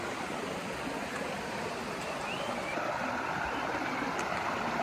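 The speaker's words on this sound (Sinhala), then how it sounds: "වතුර පාර ලස්සනට ගලාගෙන එනවා" Steady rushing water, a stream flowing continuously over rocks with a broad, even roar and no voices.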